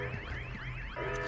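An alarm wails in Batman: Arkham City, a loud, sweeping electronic tone that rises and falls in quick repeating cycles.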